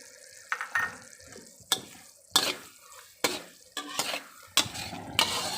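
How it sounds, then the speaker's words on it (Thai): Sliced shallots added to a pan and stirred, several sharp scraping strokes and clatters in an uneven rhythm over a soft background sizzle, close and fairly loud, with no voices. "หอมซอยแล้วก็จะใส่ลงไป สักครึ่งหนึ่งนะคะ"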